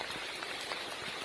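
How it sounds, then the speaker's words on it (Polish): A heavy downpour falls in the mountains near Wałbrzych during a long-distance trail hike, a dense, continuous hiss of rain pattering on surfaces close by with no voices. "Rozpętała się potworna ulewa."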